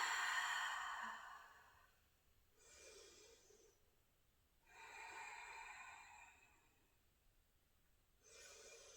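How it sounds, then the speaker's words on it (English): Deep yoga breathing during a gentle session, slow audible inhales and exhales repeating in about three long, soft cycles, close and quiet, with no talking. "So inhaling deep and exhaling."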